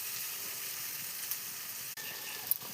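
Potatoes being fried for fish curry give a quiet, steady hissing sizzle from close by in the pan, with one or two small pops and clicks near the end and no voices.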